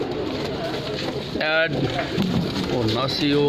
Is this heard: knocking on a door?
no